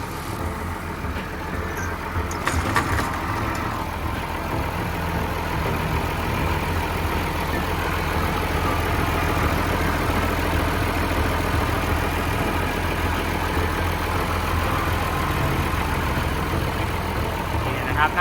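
A Hitachi LX160-7 wheel loader's heavy diesel engine idles steadily and close by, a continuous low rumble with no change in pace throughout.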